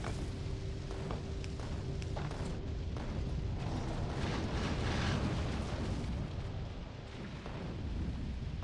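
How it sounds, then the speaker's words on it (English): Artillery in the video game Factorio shelling enemy spawners: a continuous rumble of booms and bursting impacts, rolling and overlapping at a fairly low level, with a steady tone running through the first few seconds. "More spawners as the artillery's taking them out."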